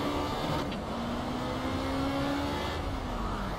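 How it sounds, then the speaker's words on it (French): Race car at Monaco in Project Cars performing rear-tyre burnouts, a loud sustained engine roar with shifting pitch and tyre squeal, continuous and close. "Quelques burns de manière à mettre en température mes pneus arrière."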